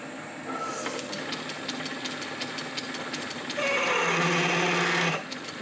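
A 3/8 drill boring into buttons held in a lathe 3-jaw chuck: a steady mechanical whir with a rhythmic ticking, rising to a louder, harsher cutting noise near the end.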